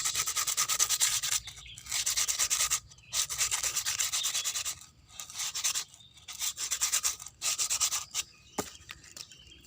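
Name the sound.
sanding coconut shell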